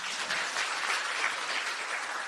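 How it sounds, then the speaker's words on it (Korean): A lecture audience of National Assembly members claps for a philosophy professor, a brief, even burst of many hands applauding together in a room, fairly close and steady. "자, 박수 한번 쳐주세요"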